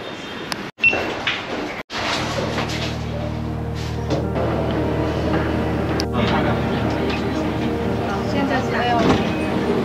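Subway metro train running in China, a steady loud rumble and rattle of the carriage with humming motor tones rising as it moves, plus a couple of sharp door-like clunks early on, with people talking over it.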